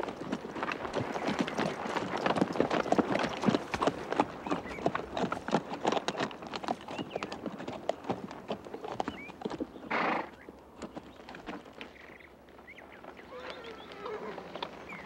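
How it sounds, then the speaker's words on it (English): Steady clip-clopping hooves of a paint horse fill the scene, with a brief whinny near the middle and faint birds honking in the background. "Paint horse."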